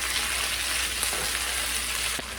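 Ground beef sizzling in a skillet as a tomato-based sauce with cornstarch is stirred in, a steady loud frying hiss with faint scraping, no voices.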